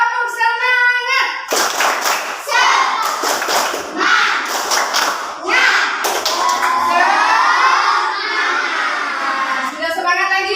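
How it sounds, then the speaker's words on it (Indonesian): A class of children does a rhythmic cheer clap together, loud and close, with bursts of shouting and excited young voices over the patterned clapping. "Yuk kita tepuk. Tepuk semangat."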